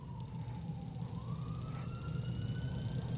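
An emergency siren wails faintly in the distance, its tone sliding slowly upward over a low background rumble in an animated cartoon scene.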